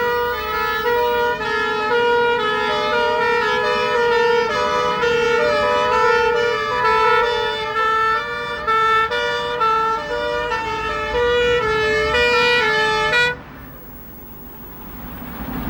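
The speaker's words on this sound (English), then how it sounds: "A command vehicle, hydraulic platform and pump engine respond to a call." Fire engine sirens from a command vehicle, hydraulic platform and pump engine responding to a call, a loud two-tone wail cycling steadily for about thirteen seconds before cutting off, leaving passing traffic rumble.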